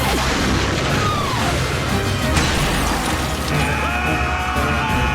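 Missiles firing and exploding in an animated space episode: loud, continuous rumbling blasts and crashes with whooshing streaks and a sustained tone toward the end, with no talking over it.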